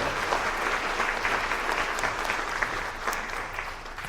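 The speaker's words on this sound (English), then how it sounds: "Let's have a round of applause for the class of 2022, DJ Ligori." An audience at an alumni and athletic hall of fame induction ceremony applauds an inductee, a few seconds of dense, steady clapping at moderate loudness.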